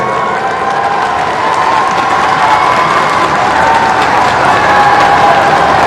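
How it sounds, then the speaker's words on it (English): Loud, steady applause and cheering from a stadium crowd encouraging race walkers in the men's walk at the SEA Games 2017, a continuous wash of clapping and shouts that holds throughout. "Let's give them some love and more claps and encouragement"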